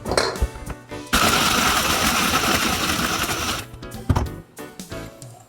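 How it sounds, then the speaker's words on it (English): A blender whirs loudly as it blends lemonade mix, nitro coffee and ice, running steadily for about two and a half seconds between clattering handling noises before and after. "And blend it."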